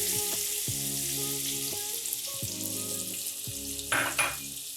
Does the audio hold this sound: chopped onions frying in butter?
yes